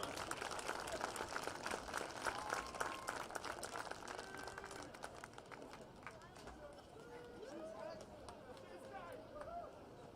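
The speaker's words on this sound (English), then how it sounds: "A nice round of applause for Josh Moore." Crowd applause at a high school football game between Penn Cambria Panthers and Richland Rams, steady distant clapping from the stands that eases slightly midway, heard under an announcer speaking over a PA system.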